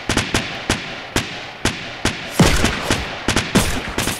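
Rapid pistol and revolver fire in the Fortnite video game pops in a quick, uneven string of roughly a dozen sharp shots, loud and close, with denser bursts in the middle.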